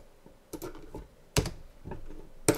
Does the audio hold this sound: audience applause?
no